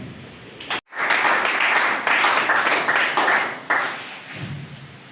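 Audience applause follows a speech by a national president at a public gathering, a dense burst of clapping that starts after a brief pause, swells, holds with uneven peaks and then fades near the end.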